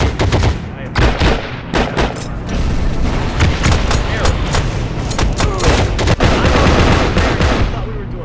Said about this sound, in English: So I'm actually on my MG42 gun right now.